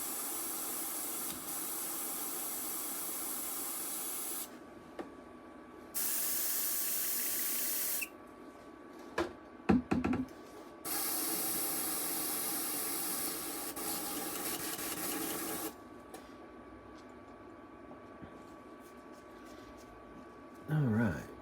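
An airbrush sprays paint in several sustained bursts of bright, close hiss, each lasting a few seconds, separated by quieter gaps with small clicks and handling noises.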